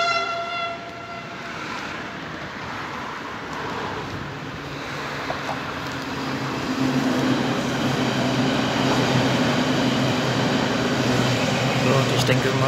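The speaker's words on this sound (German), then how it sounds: "jetzt kommt gleich die S-Bahn durch." An S-Bahn commuter train in Berlin-Marienfelde rumbles past, starting with a horn-like tone, then a building, steady roar of wheels on rails that grows louder, with a voice talking over it.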